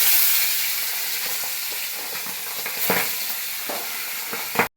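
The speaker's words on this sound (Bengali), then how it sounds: "এবার আমি মাছগুলো ভাজবো।" Tangra fish frying in hot oil, a close, loud, continuous sizzle and hiss that swells and crackles in bursts before cutting off abruptly.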